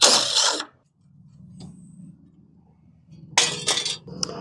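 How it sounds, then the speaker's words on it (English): A metal bracket being removed from a 1993 Nissan Hardbody D21 mini truck, with sharp metallic clinks and a ratcheting mechanical rattle at close range, broken by brief bursts of broadband noise at the start and the end. "Now we can remove this bracket."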